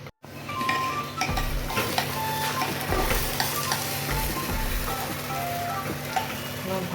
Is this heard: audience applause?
no